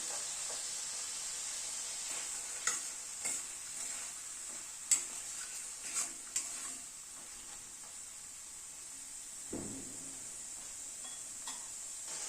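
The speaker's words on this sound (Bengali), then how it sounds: "মশলাটা এই মিনিট 2-3 সময় ধরে কষিয়ে নিলাম।" Spice masala stir-fried in a pan with boiled salted chickpeas, a low steady sizzle with scattered scraping taps of a spoon against the pan, fairly quiet and close, no talking.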